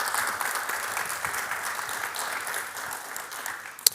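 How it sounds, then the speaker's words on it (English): An auditorium audience at an honors conference claps steadily and evenly for a few seconds, with one sharp, louder clap near the end. "Can we give these guys a round of applause?"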